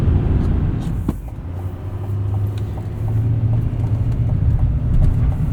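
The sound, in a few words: 2025 Chevrolet Silverado 2500 turbo diesel V8 driving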